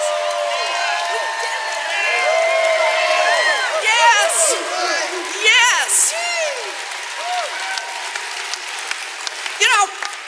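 A rally crowd in Boston applauding and cheering, with claps mixed with whoops and shouts that swell in bursts, while voices call out over the noise.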